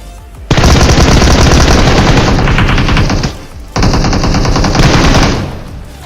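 Automatic gunfire in a PUBG Mobile fight rattles in two loud, rapid sustained bursts, the first running about three seconds and the second after a brief pause, close and dense with no talk.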